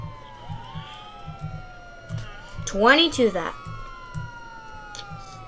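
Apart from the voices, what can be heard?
police car siren in GTA 5 roleplay video game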